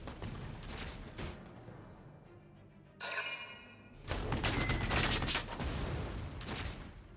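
Gunfire in Valkyria Chronicles 4, with crackling bursts of shots and thuds over a loud battle mix, plus a brief swell of rattling fire in the middle.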